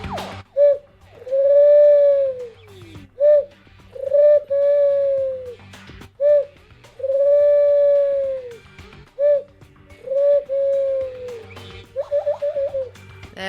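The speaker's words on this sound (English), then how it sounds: "There we go. That's the bird." A cooing, hooting bird call in the video game Danganronpa 2, repeated in a steady series of drawn-out, tonal notes with short gaps between them, loud and clear with no talking.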